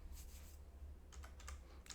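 Typing on a computer keyboard while creating a new Python file, heard as a few short bursts of quiet clicky keystrokes over a steady low hum.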